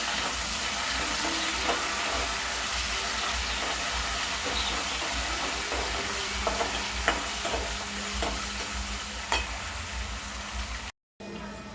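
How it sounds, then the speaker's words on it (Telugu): Garlic, green chilies and curry leaves tempering in hot oil for an ivy gourd fry, giving a loud, continuous, close sizzle and hiss while the pan is stirred, with scattered spoon scrapes and a brief drop to silence near the end. "ఇప్పుడు ఎల్లుల్లిపాయలు వేసుకున్నానండి. అలాగే పచ్చిమిర్చి కూడా వేసుకున్నాను, కరివేపాకు కూడా కలుపుకుందామండి."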